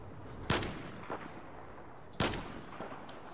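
Two heavy booming shots from Battlefield 4, each a sharp loud blast with a rumbling tail, spaced well apart with a faint echo after each.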